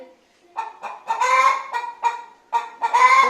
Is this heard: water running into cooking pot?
no